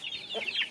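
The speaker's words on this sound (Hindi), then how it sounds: "हाँ ये मुर्गी है, नहीं मुर्गा है ये" Chickens cluck and squawk agitatedly at close range, a rooster among them, a steady run of sharp, overlapping calls with no talking.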